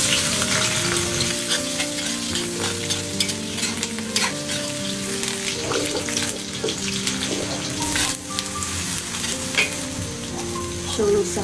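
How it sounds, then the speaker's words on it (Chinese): Lean meat stir-fries in oil in a home kitchen pan: a loud, steady sizzle broken by scraping spatula strokes, with faint music in the background. "瘦肉下锅炒"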